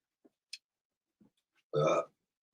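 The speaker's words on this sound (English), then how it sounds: "Why am I burping so much?" A single short burp sounds up close near the end, after a few faint clicks and small mouth noises in an otherwise quiet moment.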